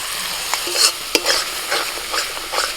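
Spice paste sautéing in a pan, a close, steady sizzle with repeated scraping stirs of a spoon, no voices.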